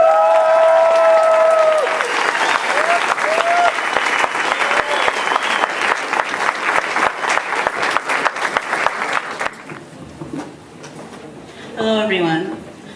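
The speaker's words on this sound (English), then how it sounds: "please give a big round of applause" An audience at a civic State of the City event applauds youth leaders. Loud clapping opens with cheering voices, thins into scattered claps and stops near ten seconds, and a voice then speaks over a quieter room.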